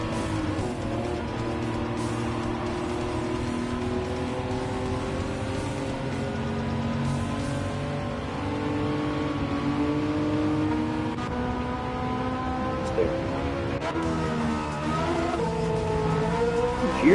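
A race car engine drones steadily in Gran Turismo 7, its pitch rising and falling through gear changes with a brief tire squeal near the end, loud and continuous with no talk.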